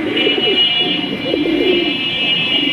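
Fancy racer pigeon cooing in a loft of red checker pigeons, low murmuring coos repeating in soft pulses, close and steady over a constant high electronic hum.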